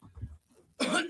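A single loud, harsh cough bursts out close by after some quiet low murmuring, sharp and breathy.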